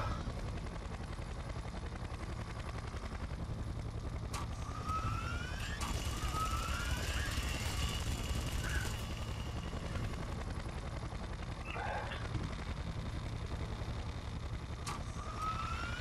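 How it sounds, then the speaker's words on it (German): Helicopter gunfire in the video game Splinter Cell Conviction, a steady rotor drone with sharp shots and sweeping siren-like tones layered over continuous noisy action, no talk. "Ich werde von einem Hubschrauber beschossen."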